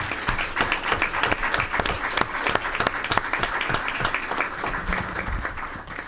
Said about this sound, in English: So I think we should give Bruce a round of applause and a congratulations